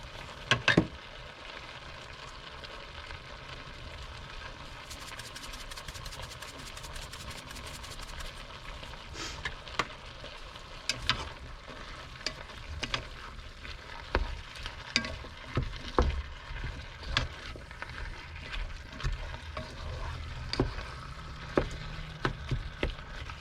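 Food seasoned with salt and pepper frying in a pan, giving a steady low sizzle with scattered sharp pops and crackles that stays fairly faint throughout, with no talking.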